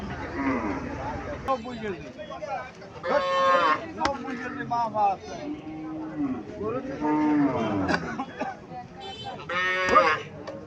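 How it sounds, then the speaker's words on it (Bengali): A cow moos several times on a cattle farm, loud drawn-out lows close by with pauses between them and faint background noise. "এখানে একটা গাভী দেখা যাইতেছে।"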